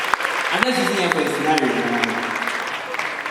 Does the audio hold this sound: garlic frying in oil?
no